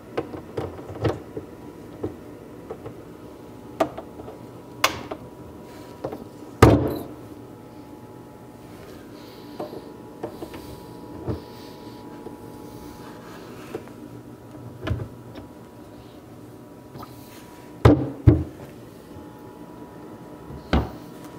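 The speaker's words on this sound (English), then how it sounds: "used a VIX bit to pick up my holes, and we're ready to install the door" Cabinet doors being fitted at a woodworking miter station: scattered knocks, clicks and taps of wood and hardware, some sharp and close, separated by quiet stretches of low workshop hum.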